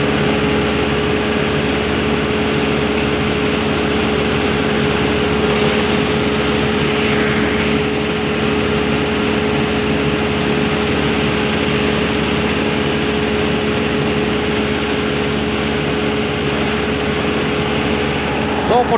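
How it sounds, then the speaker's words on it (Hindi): Steady engine drone of a Preet 987 mini combine harvester cutting paddy standing in about two feet of water, a continuous close mechanical hum with a slight dip midway and talk faintly underneath. "मिनी कंबाइन कटाई कर रही है पानी में।"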